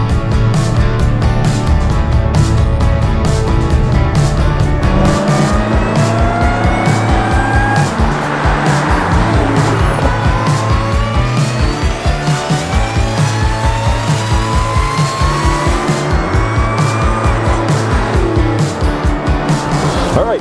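A 2019 Dodge Challenger SRT Hellcat Redeye roars at high revs with repeated gear-change dips and sustained, loud tire squeal, close and continuous throughout.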